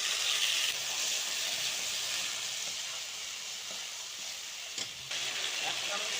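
Tomato and ground ginger-cumin-chili paste fry in a pan with a steady bright sizzle that slowly eases, with a couple of brief clinks near the end.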